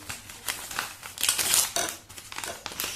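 Paper wrapping crumples and crinkles in quick, irregular bursts as a packaged shock gun is unboxed, close and fairly loud with no voices.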